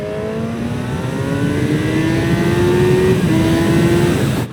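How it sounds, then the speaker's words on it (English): A 2025 Honda CB1000 Hornet motorcycle engine is revved hard, its pitch climbing steadily in one long, loud, close-up pull that drops off sharply at the end. "As soon as I started this one up and gave it a few revs"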